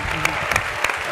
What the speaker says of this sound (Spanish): Por favor, un fuerte aplauso otra vez de nuevo.